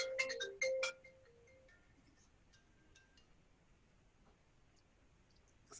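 A mobile phone gives a short bright ringtone burst of a few quick melodic tones near the start, then it stops and only faint room noise remains.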